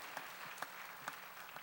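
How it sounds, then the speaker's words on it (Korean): A church congregation claps hands in a faint, steady rhythm, four or so evenly spaced claps against a quiet hall. "박수치며 하나님께 영광 돌린다."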